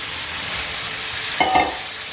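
Sawi greens sizzle in a pan of mee goreng sauce, a steady frying hiss with a brief clink of a utensil near the end.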